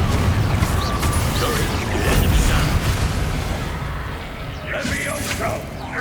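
A Confringo blast spell in the Hogwarts Legacy video game goblin battle, heard as booming, crashing bursts amid a dense, continuous din of combat effects, with voices shouting over the fray.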